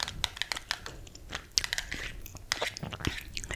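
Gum chewed close to the microphone in an ASMR style, giving quick wet clicks and crunchy bites in an uneven rhythm, with some faint crinkling over a quiet background.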